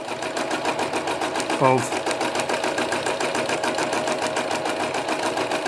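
A sewing machine fitted with a free motion foot stitches steadily, its fast even needle rhythm close and continuous, with a brief word spoken over it.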